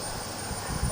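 At a Cars and Coffee auto show, the jet engine of a jet-powered mini motorcycle gives a short burst of steady, loud turbine roar with a thin high whine on top.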